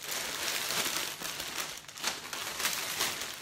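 Continuous crinkly rustling of cellophane wrap, close and steady, with no voices.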